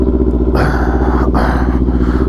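Kawasaki Z400 sport bike engine idling and then blipped, a loud, close, steady rumble that rises sharply in pitch, dips briefly, and returns, heard alone without talk.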